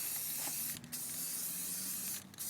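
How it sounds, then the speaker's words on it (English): Aerosol high-heat paint hisses in steady bursts onto the brake calipers of a 2000 Toyota Solara, with two brief pauses between passes and no talking. "So we're gonna put a nice couple of coats on here, make it all beautiful for Jeff"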